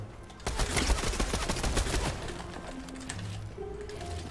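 Weapons fire in the Fortnite video game, a loud, dense burst of rapid gunshots early on that fades into lighter game effects and background noise.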